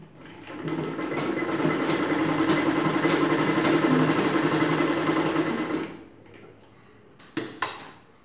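A sewing machine stitches two dress tucks together in a steady, fast whirring run for about six seconds, then stops, followed by a couple of brief clicks.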